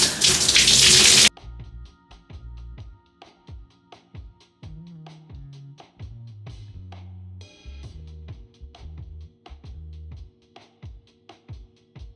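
Water runs loudly from a tap for about a second while Mielle curl product is rinsed out of natural hair, then cuts off, leaving quieter scattered knocks and tones.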